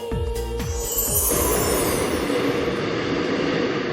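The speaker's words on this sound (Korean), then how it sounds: "사당역으로 가기 위해 다시 지하철을 탔습니다" A Seoul subway train heading toward Sadang station clatters over rail joints in a few quick clacks, then settles into a steady, loud rumble and rush of the moving carriage.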